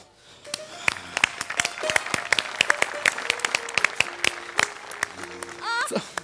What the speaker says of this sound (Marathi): म्हणजे एकदा जोरदार टाळ्या.